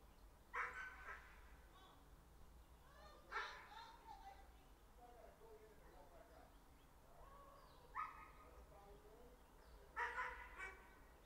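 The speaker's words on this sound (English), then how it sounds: "There's another dog out there." A dog barks outdoors at a distance, four separate sharp bursts spaced a few seconds apart, with fainter yips and whimpers in between beneath a low steady hum, no talking.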